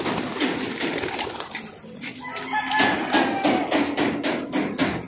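Racing pigeons belonging to a veteran pigeon fancier in Novaliches, heard as cooing and flutter amid a busy outdoor loft, with repeated sharp knocking or tapping sounds alongside.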